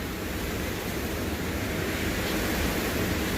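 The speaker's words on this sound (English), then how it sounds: "it's just a windy day here in Minnesota" Strong wind roars constantly across the microphone outdoors in Minnesota, a dense, rumbling rush of noise with no voices.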